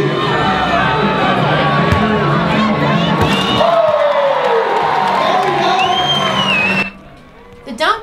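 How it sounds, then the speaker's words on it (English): A packed basketball crowd at a Midnight Maccness event cheers wildly, a dense roar of screams, whoops and shouts sustained at full volume for about seven seconds before abruptly dropping away. "The Magnus crowd went wild for both the men and the women"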